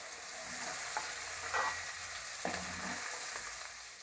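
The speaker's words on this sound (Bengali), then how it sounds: "চিংড়ি মাছটা আমি খুব লাল করে ভাজবো না, হালকা করে ভেজে নেব" Prawns fry lightly in oil in a pan, a soft, steady sizzle with occasional stirring scrapes and small pops, quiet and close, with no talking.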